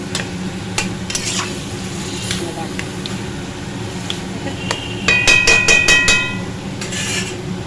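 Turmeric and spices sauté in a pan for a fish-head and kachu shak dish, with a steady sizzle beneath scattered sharp scrapes, then a quick run of rhythmic metallic taps near the end.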